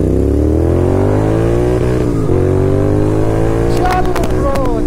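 Kawasaki Z900 motorcycle engine revving steadily during a ride, a loud, continuous drone that dips briefly and then swells again, with a few sharp higher accents near the end.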